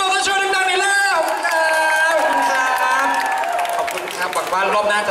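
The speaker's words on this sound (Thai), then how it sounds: "ก็ขอเสียงปรบมือให้กับมินิมอเตอร์โชว์ดังๆ" Crowd at the Mini Motor Show 2018 at The Mall Thapra cheering and whooping loudly, with bright shouts and some clapping, mixed with an excited amplified voice.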